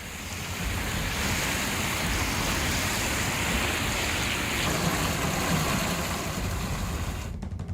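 Heavy floodwater rushing through streets after torrential rain near Delhi and Gurugram, a dense, continuous roar of flowing water filling the whole clip, loud and steady with no voices.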